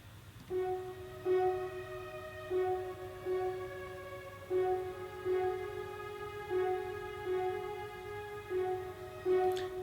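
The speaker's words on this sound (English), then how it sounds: "some French horns come in doing a very staccato" French horns repeat short staccato stabs on a single pitch in a steady pulsing rhythm, layered over sustained ambient synth tones, with no voices present.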